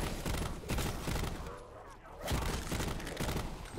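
Shotgun blasts in Call of Duty Black Ops 4, a series of loud, punchy shots at a steady rhythm with a brief lull in the middle before firing resumes, under game noise and faint voices.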